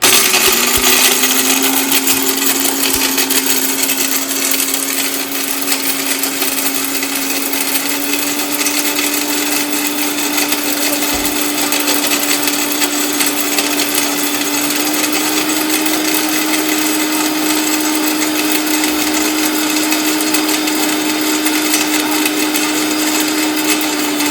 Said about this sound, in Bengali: আমি এখন ব্লেন্ডারটা আপনাকে দেখাচ্ছি